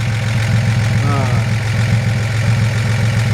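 A 1941 Chevrolet Business Coupe engine idles steadily with a low, even rumble through a dual exhaust, close and fairly loud, without pauses.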